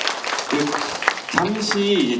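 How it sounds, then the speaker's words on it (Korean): Audience applause at an elder human rights protection seminar following a presentation, a steady wash of clapping running throughout while a voice talks over it. "장종순 원장님의 그 발표를 다시 한번 큰 박수로 부탁드리겠습니다"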